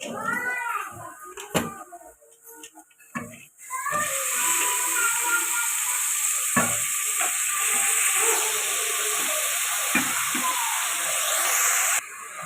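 Bottle gourd pieces dropped into a pan of fried dal set off a loud, steady sizzle and hiss that starts suddenly and holds for several seconds, after a few clinks and quieter frying.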